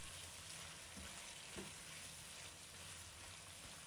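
Chicken thigh pieces with garlic cloves stir-fried over high heat, giving a steady, fairly quiet sizzle with faint scraping from the spatula throughout.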